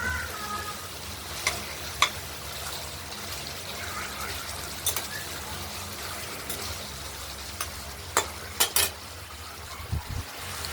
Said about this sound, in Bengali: মশলাটা কষানো হয়ে গেছে, তেল ছেড়ে দিয়েছে।